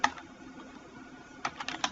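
Quiet clicks of typing on a computer keyboard while entering a sheet name in Excel, a brief burst at the start and a cluster of keystrokes near the end, close and faint.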